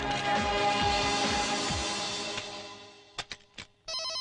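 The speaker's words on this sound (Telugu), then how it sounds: "phone sir" A phone rings in a movie scene, a sustained electronic ringtone filling the first few seconds and then fading, followed by a few short sharp tones and a final burst of ringing.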